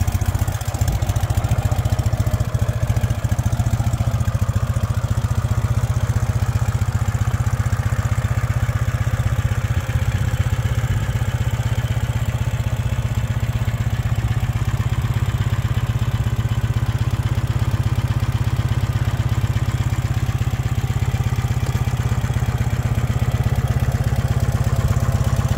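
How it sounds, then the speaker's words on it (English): A 2014 Ural Patrol 2WD sidecar motorcycle with a short 2-into-1 exhaust idles close by, a loud, steady low rumble with faint mechanical clatter that stays even throughout. "we'll start it up so you can hear it run"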